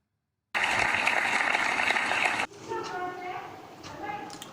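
An audience at a Maharana Pratap Jayanti kavi sammelan in Jaisalmer claps to welcome a poet: a loud, dense burst of about two seconds that cuts off abruptly, followed by a quieter stretch with someone talking.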